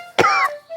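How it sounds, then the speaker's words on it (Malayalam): One close, loud cough bursts out, then trails into a short raspy throat sound, in an otherwise quiet indoor room. "അടുത്തൊരുത്ത കുരച്ചോണ്ട് വരെയാണ്."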